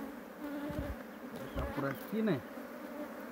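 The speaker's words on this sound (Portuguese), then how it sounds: "as abelhas já foram pra baixo ali" Honeybees buzz steadily around a swarm on a mango branch, a close, continuous insect drone with louder passes overhead, while a person speaks briefly over it.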